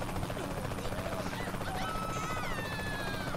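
Helicopter in the Saints Row The Third game, a loud continuous rotor drone with pulsing chop throughout, mixed with other game sounds and rising whining tones toward the end.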